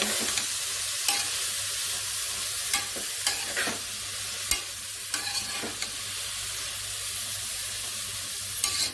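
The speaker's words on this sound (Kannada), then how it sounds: "ಕ್ಯಾಬೇಜ್ ಹಾಕಿ ಸ್ವಲ್ಪ ಆ ಕಡೆ ಈ ಕಡೆ ಸ್ವಲ್ಪ ಮಾಡಿ" Shredded cabbage sizzles steadily as it is stirred and fried in a pan, with a constant hiss broken by occasional sharp scrapes and clinks of the spoon, close up and without voices.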